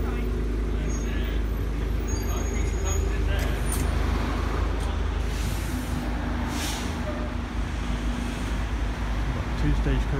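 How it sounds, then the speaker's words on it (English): Stagecoach Gold buses move through road traffic, making a continuous low rumble of engines with a faint hiss of brakes and passing vehicles. The noise is close and steady throughout. "Stagecoach Gold buses here."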